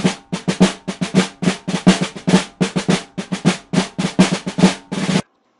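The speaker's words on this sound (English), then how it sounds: "That is known as a snare drum." Snare drum with springs on its underside, struck in a quick, uneven pattern of crisp hits with a buzzy rattle. Close and loud, then ending abruptly into silence.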